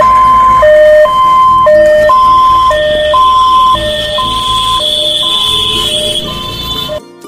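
An ambulance siren from a Durgapur ambulance service advert wails loud in a steady two-tone high-low cycle, repeating for about seven seconds before cutting off abruptly.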